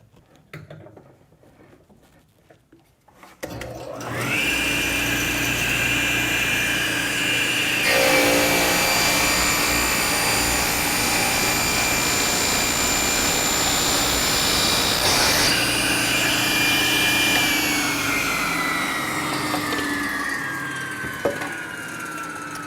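A saw starts up and runs steadily to cut wood held against a miter gauge, a loud continuous whine with a shifting pitch as the blade works through the piece.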